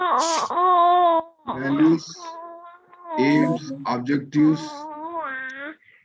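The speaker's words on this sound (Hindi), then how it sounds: "बच्चा रो रहा घर में" A baby cries at home in drawn-out, wavering wails and whimpers that come in several bursts, loud and close, while an adult keeps lecturing over the crying.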